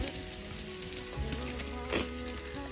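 Shashlik meat sizzles on a grill with a steady crackling hiss throughout, joined by a faint hum and a few soft clinks.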